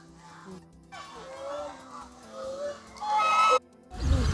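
Ducks by a natural stream quack and honk in repeated nasal calls, some close and loud, forming a busy flock chorus with a brief rushing noise near the end.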